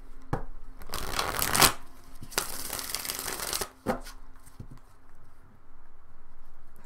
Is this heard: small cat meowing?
no